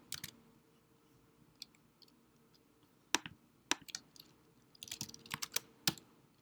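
Typing on a computer keyboard, sparse key clicks at first, then quick irregular bursts of sharp taps, close and crisp against a quiet room.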